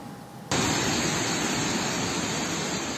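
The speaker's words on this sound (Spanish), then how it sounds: "las lluvias en el cantón Montalvo, provincia de Los Ríos, provocaron el desbordamiento del río Cristal en diferentes tramos" Rushing floodwater from the overflowing Cristal river in Montalvo canton, Los Ríos province, after heavy rains, heard as a loud, constant broadband roar that starts abruptly after a quieter moment and stays steady.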